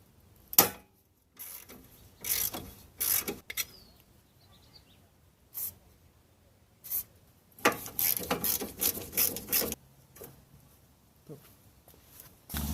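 A hand ratchet clicks in short bursts while the horns are removed from the front end of a Nissan 240SX drift car project, close and clear, with quiet pauses between turns.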